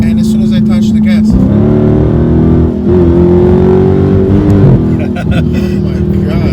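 Car fitted with a Pedal Commander throttle controller accelerating hard from 50 mph, a loud engine roar climbing in pitch with a shift partway through, with brief talk over it.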